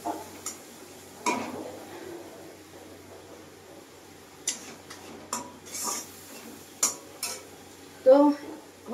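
Spice paste with a splash of water being stirred and fried in a pan, with sparse scrapes and light metallic clinks of the spoon against the pan over a quiet, steady background.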